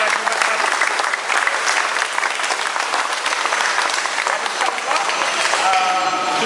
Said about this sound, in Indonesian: Saya rasa kita rakam satu tepukan buat Tuan Haji Mahathir